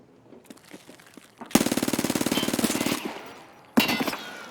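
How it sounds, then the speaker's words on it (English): Automatic gunfire in a shooter video game, a short crackle of distant shots followed by a close, loud rapid burst lasting over a second, then another brief burst after a pause. "I can hear him running and shooting."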